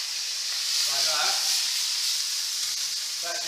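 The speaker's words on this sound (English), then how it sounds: "That just takes the heat out of the pan, but it creates steam" A splash of water added to a hot pan of vegetables for a stuffed aubergine ratatouille, bursting into a loud, steady hiss of sizzling and steam, close by, with brief faint talk underneath.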